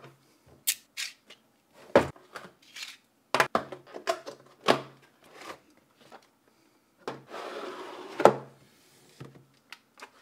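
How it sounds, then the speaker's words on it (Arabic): Unboxing a LaCie d2 Pro external hard drive: a sequence of sharp cardboard and packaging clicks, taps and rustles comes in irregular bursts, with a longer scraping slide near the end, all close and with no talking. "تعالوا نفتح الصندوق ونشوف محتوياته"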